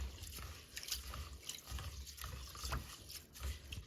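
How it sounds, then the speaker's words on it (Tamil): Water is poured over rice in a bowl to wash it for appam, a faint, close trickle and splashing with small drips, continuous over a few seconds. "நான் இப்போ இதுக்குள்ள தண்ணி ஊற்றி இதை கழுவிட்டு"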